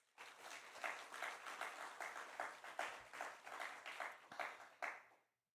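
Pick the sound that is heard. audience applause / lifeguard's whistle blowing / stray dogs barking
audience applause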